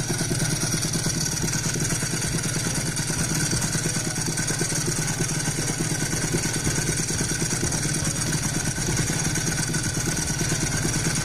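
A Honda NSR250R motorcycle fitted with an ETHOS expansion chamber exhaust idles steadily and close by, a continuous buzzing engine note with no change in pace.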